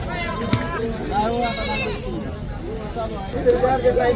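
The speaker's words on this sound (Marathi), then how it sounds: "आज बाजारामध्ये भरपूर प्रमाणात शेळ्या पण आलेल्या आहेत" Goats and kids bleat repeatedly amid a busy Monday goat market in Kalamb, with calls rising over a steady background of crowd chatter and nearby talk.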